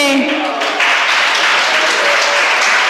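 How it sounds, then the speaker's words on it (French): An audience at a school quiz competition final gives a dense, steady burst of applause, many hands clapping together in a continuous wash of sound close by. "On les applaudit quand même."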